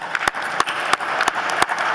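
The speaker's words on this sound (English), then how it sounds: "One more round of applause." An audience at a scholarship ball applauds, a moderately close patter of hand claps with several sharp individual claps standing out roughly every third of a second.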